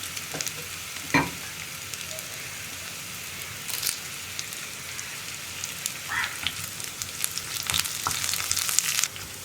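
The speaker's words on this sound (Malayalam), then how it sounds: "ഇതൊന്നിനി ഉള്ളിയുടെ കളറൊന്ന് മാറി വരുന്നത് വരെ ഒന്ന് ഇളക്കി കൊടുക്കുക" Onions fry in oil with curry leaves as they are stirred in a pan, a continuous crackling sizzle with scattered scrapes and clinks that grows busier toward the end, no talking.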